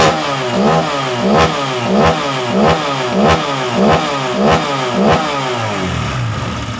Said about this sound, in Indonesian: Untuk suara mesin hampir bersih untuk bagian setelan klepnya